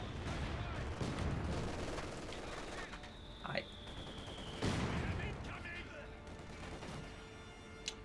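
Machine gun and rifle fire in the World War II strategy game Company of Heroes 2 crackles in repeated bursts through a busy battle mix, with a voice talking over it.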